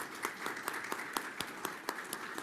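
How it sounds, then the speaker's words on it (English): Sparse, quiet clapping at an agricultural and environmental law conference, a few distinct individual hand claps standing out in a rhythmic pattern over a small audience's softer applause. "Give a round of applause."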